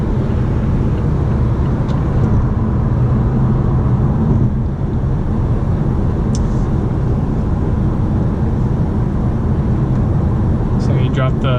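A 2018-2020 Mazda 6 Grand Touring Reserve with a turbo engine accelerating, heard from inside the cabin as a steady, loud engine drone blended with road noise, with voices now and then.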